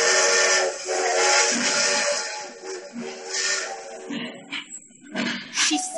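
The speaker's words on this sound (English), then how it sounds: "the guard blew his whistle" A railway guard's whistle at a station, heard as a loud, sustained shrill blast over steady steam hiss, breaking into shorter bursts toward the end.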